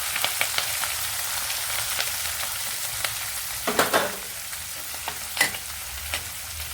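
Cumin, green chillies and chopped onion frying in oil for a potlakaya sorakaya curry: a steady sizzle with intermittent spoon stirring and scraping clatters, close and moderately loud, no speech.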